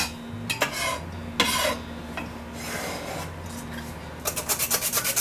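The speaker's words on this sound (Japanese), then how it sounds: "残りのネギもトッピング用に細かく切っておきます" A knife finely chops green onions on a cutting board, starting with scraping, rubbing strokes and ending in a quick, rhythmic run of close, crisp chops.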